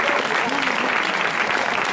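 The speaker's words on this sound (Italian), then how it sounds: "Applauso per cortesia" Theatre audience applausing at a cinema-theatre opening with readings, a continuous dense clapping roar, with a brief voice audible underneath.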